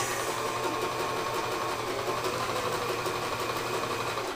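A sewing machine stitches stretch fabric, giving a steady, fairly quiet mechanical whir with a fast, even rhythm throughout and no talking.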